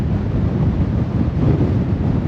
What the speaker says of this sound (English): I'm not sure if the GoPro's picking up how windy it is.